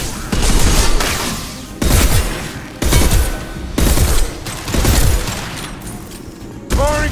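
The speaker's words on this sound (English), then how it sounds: "Firing concussive shot!" Mass Effect 2 combat: a concussive shot and repeated heavy bursts of gunfire land in loud, closely spaced volleys roughly every second, each with a sharp attack and a decaying rumble.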